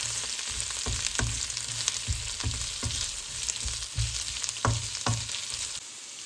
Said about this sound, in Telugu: ముందుగా కట్ చేసి పెట్టుకున్న ఆనియన్స్ కొద్దిగా, ఒక 2 పచ్చిమిర్చి వేసుకుంటున్నాం.